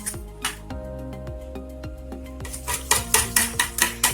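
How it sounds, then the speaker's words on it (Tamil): A whisk stirs a coconut milk mixture for vattalappam in a bowl, giving light repeated clinks and scrapes, soft at first and then a faster, louder rhythmic run of taps near the end. "இந்த மாதிரி ஒரு விஸ்க் வச்சு கிளறி விட்டுட்டே இருக்கலாம்"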